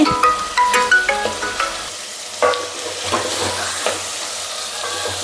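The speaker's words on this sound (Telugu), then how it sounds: "టమోటా బాగా మెత్తబడే వరకు అయితే వేపుకుందాం" Tomatoes fry in a pan with fenugreek and cumin for a field bean curry, giving a steady sizzle broken by loud metallic scrapes and clanks of a stirring spoon, most frequent at the start.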